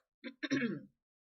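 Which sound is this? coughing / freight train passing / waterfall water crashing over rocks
coughing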